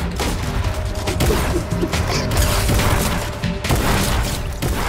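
Dense Fortnite gunfire and impact booms rattle on continuously at close range, with a short lull near the middle before another heavy burst of shots and crashes.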